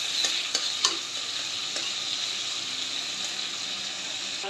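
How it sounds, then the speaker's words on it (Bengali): Chopped onion, garlic and dried fish sizzle steadily in hot oil, close and continuous, with a few sharp stirring clacks near the start. "এখানে আমি পেঁয়াজ কুচি, রসুন কুচি আর শুটকিগুলো একসাথে দিয়ে দিই। দিয়ে এগুলো আমি ভালো করে ভেজে দিই।"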